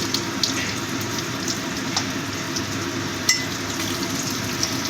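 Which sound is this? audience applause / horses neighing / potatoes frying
potatoes frying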